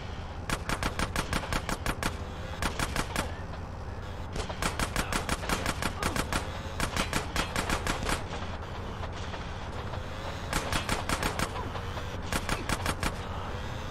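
Short automatic gunfire bursts in Grand Theft Auto San Andreas Definitive Edition rattle in quick, evenly spaced volleys of rapid shots, repeated several times over a steady low rumble, with no talking.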